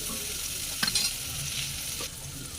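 Tomatoes and turmeric sizzle steadily in a hot pan for a potato sabzi, with two brief scraping stirs of a spoon cutting through the continuous frying hiss.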